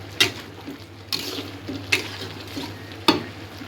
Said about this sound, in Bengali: ঝিঙে ভাজি হচ্ছে।